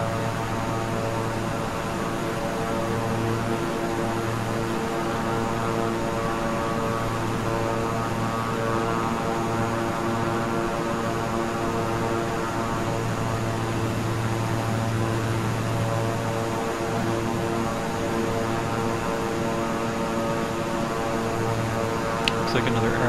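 Beechcraft King Air 350i twin turboprop in Microsoft Flight Simulator on approach near Abilene, a steady droning propeller hum with constant tonal whine throughout, smooth and unbroken over the whole stretch.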